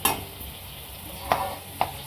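Whole spices roast in a little oil in a pan, giving a soft, steady crackle. Three light scraping stir strokes are spaced across the clip, close and fairly quiet.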